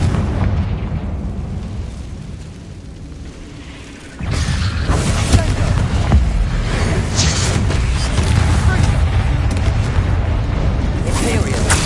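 Confringo blasting spells explode in Hogwarts Legacy combat: a sudden loud burst partway through, then sustained booming, rumbling battle noise with sharp pops layered throughout.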